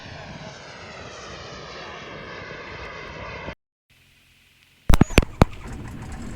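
A high-performance model jet turbine engine roars loudly and steadily, then cuts out, and a few sharp pops and bangs follow.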